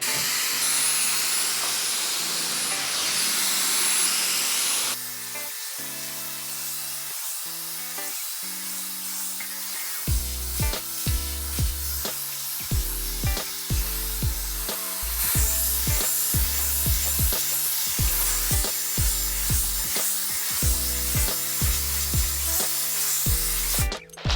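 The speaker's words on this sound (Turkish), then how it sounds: "Direkt şöyle Dyson'ın şu ucuyla elektriklenmeyi alıp şekilli bir saç." A Dyson hair styler blows air through a styling attachment while hair is being styled, giving a steady close hiss for a few seconds before music takes over.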